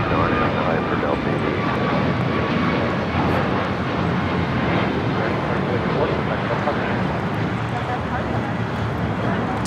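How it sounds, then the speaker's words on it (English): A Boeing 737 MAX 8 airliner takes off at LAX with a loud, continuous engine roar that fills the scene, while a voice talks over it. "Taking off to Miami on this MAX 8"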